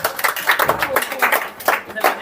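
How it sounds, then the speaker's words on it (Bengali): Children in a classroom at an Independence Day celebration clap their hands in quick, uneven bursts for a little over two seconds, close and fairly loud. "হাততালি দাও"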